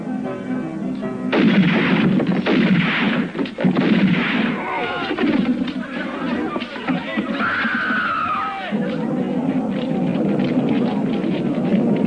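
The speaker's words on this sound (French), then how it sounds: "Qui a tiré? Je sais pas, on m'a tiré par la fenêtre." Gunshots ring out in a western film scene where a shot is fired through a window, with loud sustained booming and cracking, mixed with screams and voices.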